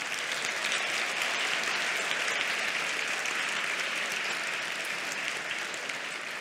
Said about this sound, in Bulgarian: Вашите аплодисменти отново за Снежана от 7 Б, която е европейски шампион за девойки.